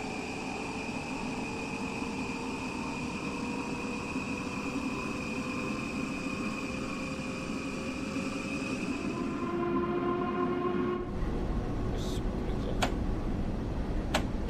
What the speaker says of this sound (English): these newer trains have their own unique sound as well